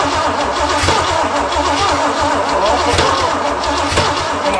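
An old Pontiac GTO Judge engine with a dry, unoiled motor cranks hard and fires up, rumbling loudly and steadily at close range with no talk over it.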